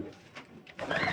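Pigeons coo softly in short, throaty bursts close by, a few separate calls building into a fuller cooing at the end.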